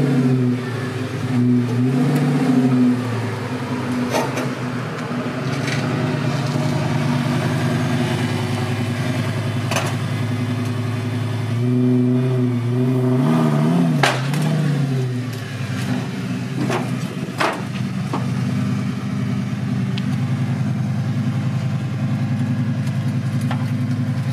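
A Lamborghini Gallardo engine idles loudly nearby with a deep, steady rumble, broken by several sharp revs that rise and fall again, and no talking.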